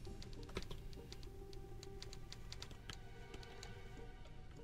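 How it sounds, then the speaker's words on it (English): Quiet, rapid keyboard typing in the video game No One Lives Forever 2, with irregular clicks of keys pressed in quick bursts, heard faintly over a low background hum. "Who's typing?"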